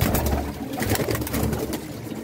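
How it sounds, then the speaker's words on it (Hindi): Pigeons coo in a loft at a pigeon club, a steady low murmuring of several birds close by, with ongoing background noise and no speech. "ये देखें, ये कबूतर है।"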